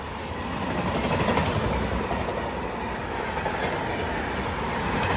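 The Tamil Nadu Express overtakes on the adjacent track, a close, continuous rumble with rhythmic clickety-clack of wheels over rail joints sustained throughout.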